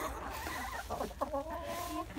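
Chickens cluck softly in a few short, uneven bursts at feeding time, with a faint background hiss and no voices.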